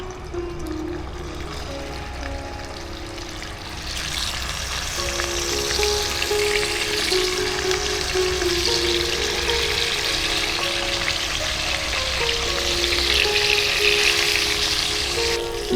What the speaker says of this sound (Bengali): শোল মাছের টুকরোগুলো হালকা করে ভেজে নেব